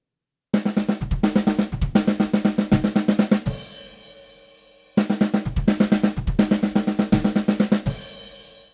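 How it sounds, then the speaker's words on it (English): A drummer plays a fast fill on the snare drum over double kick in a metal drum solo, with two identical bursts of rapid, even strokes and a crash ringing out after each, close and loud with no talking. "a set of 4, a set of 2, and then 2 sets of 6 on the snare drum"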